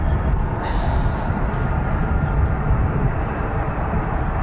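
Continuous heavy roar of US Air Force F-15 and F-35 fighter jets taxiing out at RAF Lakenheath in Suffolk, a broad steady rumble held at even loudness throughout with no break.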